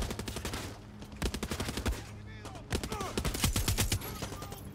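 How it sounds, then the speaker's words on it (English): Rapid bursts of machine gun fire in the Far Cry 6 video game, loud repeated volleys with short gaps between them, and other gunshots mixed in. "We have a freaking machine gun."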